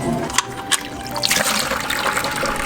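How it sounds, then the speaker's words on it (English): Engine oil drains steadily from a Nissan Hardbody D21 truck, a continuous close trickle and splash of liquid running without pause, with a couple of faint knocks near the start. "so I was gonna drain the oil"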